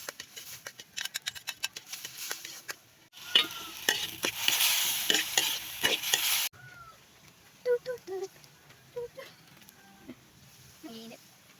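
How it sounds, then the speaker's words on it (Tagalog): Sautéing in a hot pan while making sardine lumpia, a burst of loud sizzling with stirring clatter between quieter stretches of scrapes, with a voice briefly heard. "gisahin na tayo sa mainit na lutuan"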